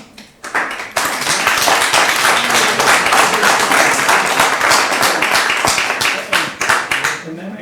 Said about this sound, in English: They're applauding Mr. Miller